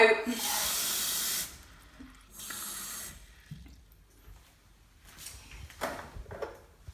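Water from a tap pours in a steady hiss to fill the tank of a cordless cleaning device, stopping and starting in short runs, followed by quieter drips and handling clicks.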